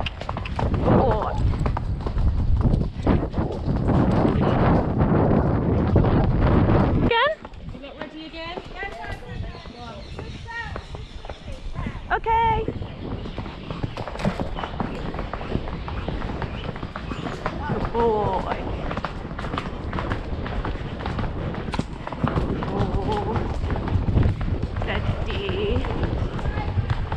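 A horse canters out on a hack, its hooves drumming in a rolling three-beat rhythm close by. A rider talks over the hoofbeats, and faint birdsong and tack noise sit in the background.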